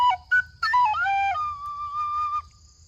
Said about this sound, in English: This is a Clark's tin whistle.